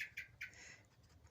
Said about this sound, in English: Hear that blackbird in the background because I'm in the garden.